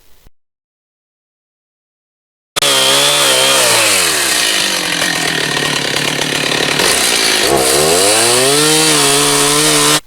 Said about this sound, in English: He worked and bought his own chainsaw, and so he'll saw some of the limbs off from the tree